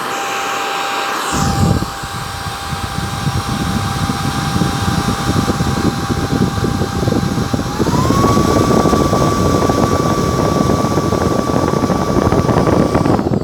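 A Baseus A3 portable car vacuum switches on with a loud whirring whine that holds steady, then rises slightly in pitch partway through and continues.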